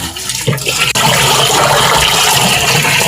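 A washing machine fitted with a replacement waterproof motor drains its water in a loud, close, rushing gush that starts abruptly and pours on steadily.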